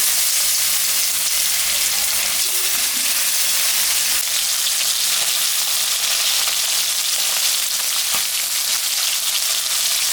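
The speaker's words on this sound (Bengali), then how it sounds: "এখন আমি মাছটা ভাজবো।" Katla fish frying in hot mustard oil in a kadai, seasoned with salt and turmeric, giving a loud, dense, continuous sizzle and crackle up close with no talking.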